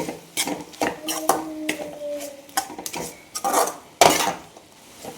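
Meat curry is stirred in a pot with a utensil, producing irregular close scrapes and clinks against the metal. A brief tonal squeak comes partway through, and there is no talk.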